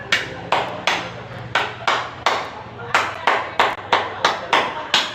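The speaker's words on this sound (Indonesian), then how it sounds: "Tepuk pramuka." Children clap out a rhythmic scout clap (tepuk pramuka) at a primary school orientation, a dozen or so sharp group claps in uneven patterned bursts, close and fairly loud over a faint background hum.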